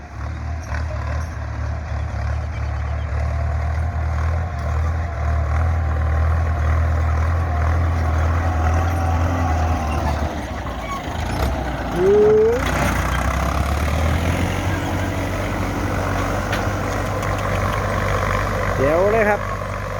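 A Ford tractor backing up a long way across a field being cleared for planting grass, its engine a steady low rumble throughout, with someone talking over it.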